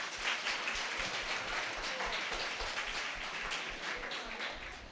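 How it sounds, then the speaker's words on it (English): Audience applause at an educational training and felicitation program, a faint, distant, steady patter of many hands clapping that continues evenly without talk. "Please give him a big round of applause."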